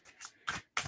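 Thin card-stock tarot cards being handled and flexed, three quick papery riffles close to the microphone in under a second, quiet, no voices.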